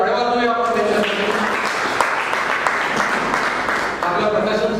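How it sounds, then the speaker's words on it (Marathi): Audience applause at a Marathi book launch ceremony, with loud, dense, sustained clapping from a large crowd filling the hall for several seconds before fading slightly at the end. "एकदा जोरदार टाळ्या वाजवूया आपण त्याच्यासाठी"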